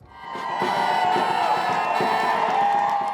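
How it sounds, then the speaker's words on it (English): A large crowd outside York Minster cheers and shouts in greeting for Queen Elizabeth and the Duke of Edinburgh, a sustained roar of voices that swells in and holds steady, with whoops rising above it. "Crowds greeting Queen Elizabeth and the Duke of Edinburgh."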